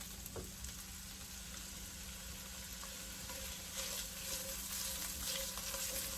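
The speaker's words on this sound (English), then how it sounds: "Now I'm going to add a generous tablespoon of oil into the pan, and we are going to saute our onions." Onions sauté in a generous tablespoon of oil in a pan, a quiet, steady crackling sizzle with occasional faint stirring clicks and a low background hum.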